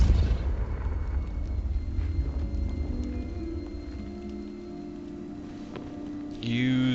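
A Confringo explosive spell in Hogwarts Legacy gameplay, a rumbling blast that fades over several seconds beneath a layer of game ambience, followed by a short tonal sweep near the end.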